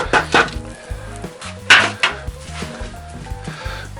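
Metal utensils clank and scrape against a Dutch oven as braised pheasant pieces are lifted out: a few sharp clinks and knocks, close by, over soft background music.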